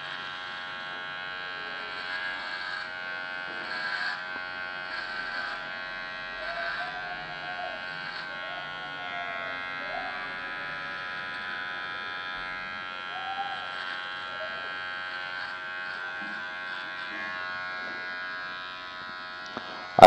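Electric hair clippers with a number 2 guard buzz steadily while trimming the excess on a man's haircut, a constant close, even drone that hardly changes over the whole stretch.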